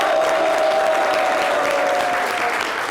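A studio audience claps steadily throughout, a dense and even wash of applause with a faint tone running underneath.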